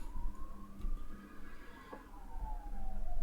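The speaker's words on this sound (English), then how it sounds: "ambulance." An ambulance siren wails in long, rising and falling sweeps, moderately loud and fairly close, with low background rumble and no talk.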